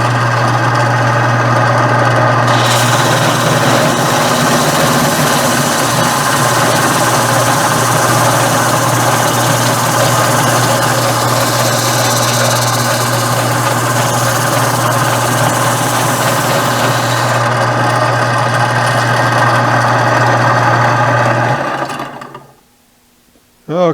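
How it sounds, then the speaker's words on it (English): A power grinder runs steadily for about twenty seconds, grinding the ends of nylon and rubber flat belts at the same time into a taper, with a loud constant hum and a brighter grinding layer before it winds down and stops. "With this one, you can grind them both at the same time"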